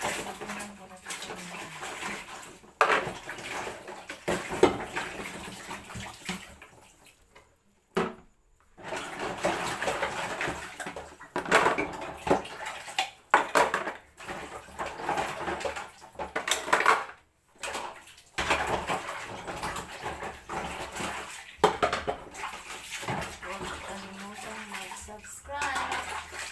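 Dishes are soaped and rinsed under running water at a home kitchen sink, with pots and cutlery clattering irregularly against a steady water rush. Someone talks over the washing, and it stops briefly a few times.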